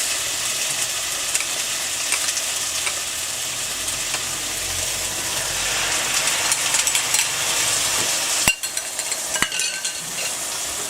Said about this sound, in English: we are now going to add this sauce. Give it a bit of a mix.